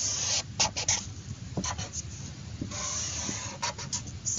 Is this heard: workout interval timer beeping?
no